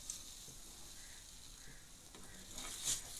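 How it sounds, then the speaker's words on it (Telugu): Semiya vermicelli is stirred in a pan on the stove, making a soft continuous sizzle with light scraping strokes. The sound is fairly faint and steady, with no voice. "ఈ విధంగా కలుపుతూనే ఉండాలి"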